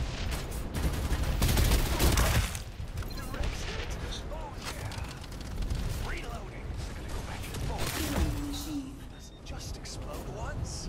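Heavy artillery gunfire in the battle royale shooter Farlight 84, a dense burst of booming shots early on followed by scattered blasts and rattling weapon noise, with players talking over the action.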